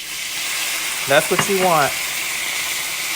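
White cooking wine poured into a hot pan to deglaze it, a loud steady steam hiss and sizzle throughout while someone speaks briefly over it.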